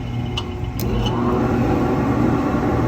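A Diedrich IR-12 coffee roaster's drum and blower switch on, bringing a steady mechanical hum and rushing air that steps up slightly in level and then holds constant. Nearby and continuous, with no talking.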